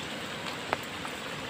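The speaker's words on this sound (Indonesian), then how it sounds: "Hujan ini teman-teman ya." Rain falls steadily outdoors during freshwater tilapia fishing, a soft continuous patter of drops with one brief sharp tap partway through and no talk.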